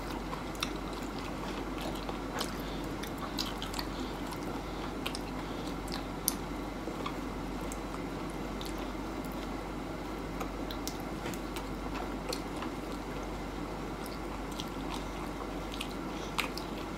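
Someone eats balut, boiled fertilized duck eggs, with quiet moist chewing and soft squishy bites, plus scattered small clicks and ticks against a low steady background hum.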